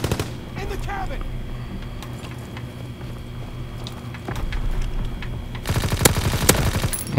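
Automatic assault rifle fire in a WW2 hardcore online shooter game, sustained rattling bursts that grow louder and denser toward the end over a steady game background.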